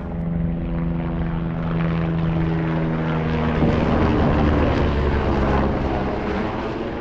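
Helicopter rotor and engine noise over high Himalayan mountain ranges near a village, a steady loud drone with low rhythmic thumping that holds throughout without speech.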